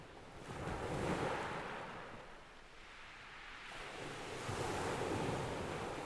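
Dark water washes and laps at the feet of a sandal-wearing walker, rendered as a soft, continuous surge of surf that swells and fades in broad waves with a wind-like hiss, with no voices.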